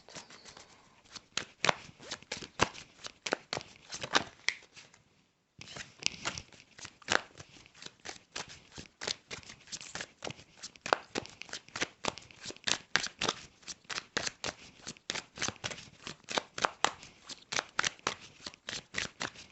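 A deck of tarot-style cards shuffled by hand, with dense crisp riffling and flicking that runs almost continuously up close. A brief pause breaks it early on, and there is no talking.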